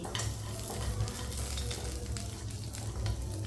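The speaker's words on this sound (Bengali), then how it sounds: "তখন এর মধ্যে কিছু কিশমিশ আর কাজু বাদাম দিয়ে ভেজে নিতে হবে।" Raisins and cashews fry in a little hot ghee, giving a dense, continuous sizzle with crackling pops and occasional stirring scrapes, close and steady throughout.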